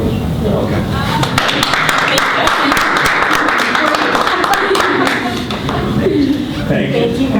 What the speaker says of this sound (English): I think Kate deserves some applause.